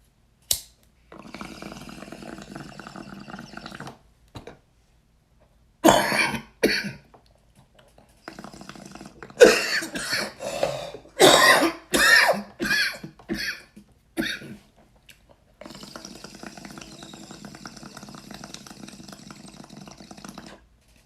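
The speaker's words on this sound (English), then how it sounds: "there's coughing in this bitch" A person coughs several times in close, loud bursts, clustered mostly in the middle stretch, separated by silent gaps and stretches of a quieter mechanical whir.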